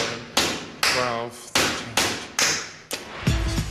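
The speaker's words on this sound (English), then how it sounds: "his hammering still has a long way to go" A clumsy novice handyman drives nails with a hammer during a renovation challenge: about seven sharp, close blows land at an uneven, halting pace, with a voice heard between some strikes.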